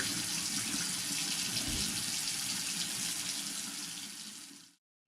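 Aquarium decorations rinsed under a running tap, steady close gushing water that stops abruptly when the faucet is shut off.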